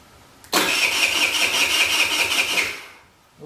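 A TaoTao 50cc ATM50 scooter engine, started by remote, cranks and catches abruptly, then runs in a loud, close, buzzing idle for about two and a half seconds before dying away.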